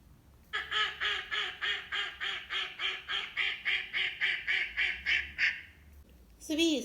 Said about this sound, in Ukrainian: Звісно, це качка